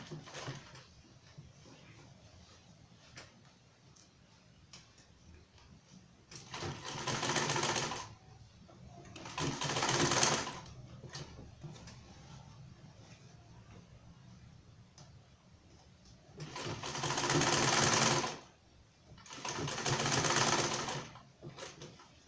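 A sewing machine stitching around a two-piece standing shirt collar runs in four distinct bursts, each lasting a second or two, separated by quieter stretches with faint background noise.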